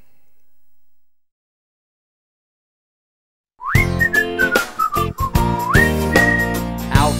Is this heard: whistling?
yes